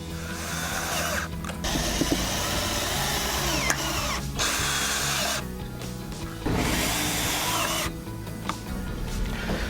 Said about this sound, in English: use the smaller screw and attach the bottom rail to the bracketry, screwing through the vinyl and through the aluminum insert inside the bottom rail